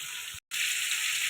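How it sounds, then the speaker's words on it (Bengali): Vegetables sautéing in oil left from frying fish, with five-spice and bay leaf, a steady close bright sizzle broken by a short silent gap, no voices. "মাছ ভাজার তেলে পাঁচ ফোড়ন দিয়ে দিলাম, তেজপাতা দিয়ে দিলাম, আর সবজিগুলো দিয়ে দিলাম। এটা ভালো করে কষাতে থাকবে।"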